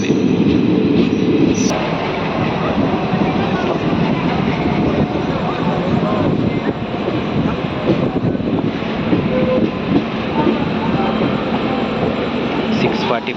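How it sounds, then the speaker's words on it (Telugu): A DEMU passenger train rolls into Kacheguda station, with a loud continuous rumble of wheels on rails, rhythmic clatter and scraping squeals as it runs in close by, steady throughout. "ఫైనల్లీ మన ట్రైన్ కాచిగూడకు చేరుకుంది 45 నిమిషాలు ఆలస్యంగా"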